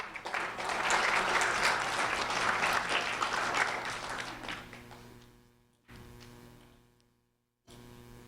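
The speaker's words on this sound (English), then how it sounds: "a round of applause for Harry Toussaint" A school ceremony audience applauds fifth-grade student Harry Toussaint, sustained crowd clapping that swells, then tapers over several seconds into quiet with a short cut and faint room tone afterward.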